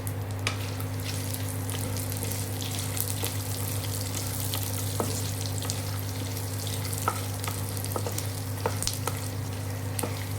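Garlic and dried red chillies fry in hot oil for a spicy karam dish, giving a steady close sizzle with a constant low hum beneath and occasional faint clicks and pops.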